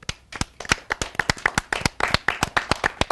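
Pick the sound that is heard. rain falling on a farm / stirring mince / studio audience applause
studio audience applause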